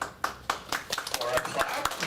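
A few audience members clap sparsely after a short tech talk at a Drupal camp in Japan, distinct separate claps in an uneven rhythm with some voices mixed in.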